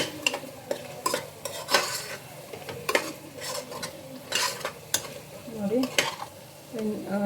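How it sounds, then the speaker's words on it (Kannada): Tomatoes frying in oil for tomato bath sizzle softly while a utensil scrapes and knocks against the pan in an irregular stirring rhythm, close by and alone. "ಟೊಮೆಟೊ ಎಲ್ಲ ಚೆನ್ನಾಗಿ ಫ್ರೈ ಆಗಿ ಎಣ್ಣೆ ಬಿಟ್ಕೊಳ್ತಾ ಇದೆ."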